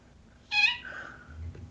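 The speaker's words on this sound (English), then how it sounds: "A startling meow." A cat gives one short, startling meow close by, a bright rising cry with a drawn-out tail, heard alone over quiet background noise.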